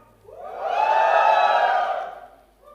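An audience at the Poco X2 phone launch event in India cheers in a single swelling burst of crowd noise. It rises, holds for about a second and a half, and fades, with no speech over it.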